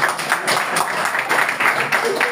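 Applause at a charter signing ceremony in Togo: a room of people clapping continuously and briskly for a couple of seconds, with some voices mixed in.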